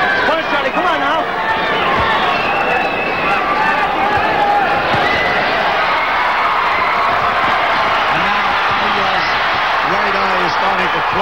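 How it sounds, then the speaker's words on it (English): Boxing crowd at the Olympic Auditorium roaring steadily as a fight heats up, a dense wash of cheering with commentators talking over it throughout. "Crowd coming alive at the Olympic"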